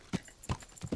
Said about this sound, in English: There's no way you can catch up with a horse running at that speed